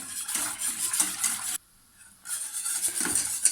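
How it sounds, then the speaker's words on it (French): A thickening mixture for croque-monsieur stirred continuously in a pan, a busy scraping, sizzling rhythm of utensil strokes with a brief quiet gap in the middle, close and steady without talk. "on s'arrête surtout pas de mélanger, on va bien partout"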